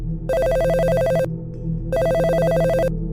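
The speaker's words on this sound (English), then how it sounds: "Then the phone rang." A telephone bell rings twice, each burst a rapid electronic trill lasting about a second, separated by a short pause, over a low hum.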